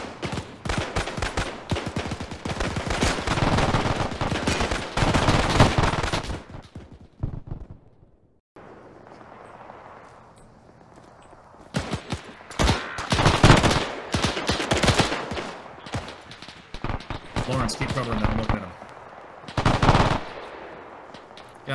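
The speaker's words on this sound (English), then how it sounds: "You think you can hit him, Michael? I don't know. I'm gonna try." Rapid machine gun bursts in the military shooter ArmA 3, loud and repeated in several long volleys with a short pause midway, dominating the scene.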